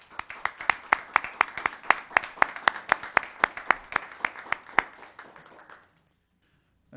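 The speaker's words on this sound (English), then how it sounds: "Please give them a round of applause." An audience at a Los Gatos town council meeting claps in a steady, evenly spaced run of loud, crisp hand claps lasting nearly six seconds, then stops abruptly into silence.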